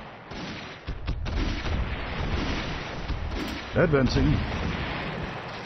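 Artillery fire rumbles through an Army Men RTS toy-soldier battle, dense low booms and mechanical clatter layered continuously, with a short voice callout partway through.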